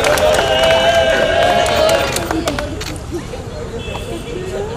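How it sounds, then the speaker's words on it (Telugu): A wedding audience breaks into a round of applause for Medha, a dense broadband clatter of many hands that swells up after a voice or music fades early on, with crowd babble mixed in. "మేధాకి ఒకసారి గట్టే క్లాప్స్ ఇవ్వండి."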